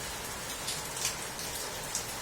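Rain falling steadily as a dense, even hiss with occasional louder drips, constant throughout, with no voices.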